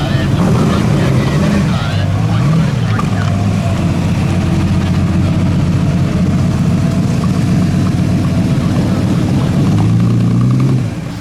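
The Mira rolls quietly into the Concorso Villa d'Este 2017 show, its soft engine note buried under heavy outdoor wind rumble, with someone talking over it.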